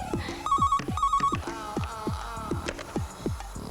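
A telephone rings steadily in a repeating electronic trill of bright tones, with a few sharp percussive beats sounding alongside it and no speech over it.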